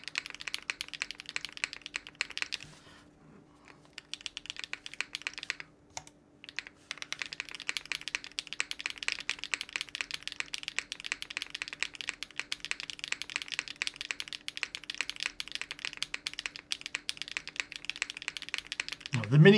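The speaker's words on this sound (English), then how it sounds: "the spacebar actually sounds so much better now" Fast, continuous typing on a mechanical keyboard with a separate plate and PCB, with the spacebar thudding among the keystrokes. The rapid, close clicking runs throughout, pauses briefly twice, and sits over a faint steady hum.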